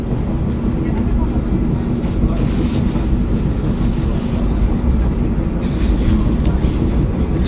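Steady low rumble inside a moving Pandalungan passenger train, a dense continuous roar of wheels and carriage that stays loud throughout with no clear breaks, and faint voices underneath.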